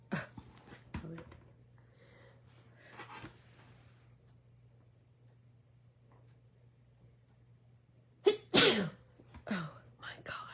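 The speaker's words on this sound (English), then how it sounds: "Hence the sneezing." One sharp, close sneeze from a person bursts out of a quiet room with a low steady hum and a few soft rustles, followed by a little breathy noise.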